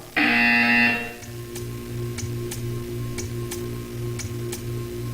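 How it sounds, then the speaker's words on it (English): A loud electronic buzzer from the video game Portal 2 blares for about a second, then a steady, quiet ticking carries on with regular clicks. "You will hear a buzzer."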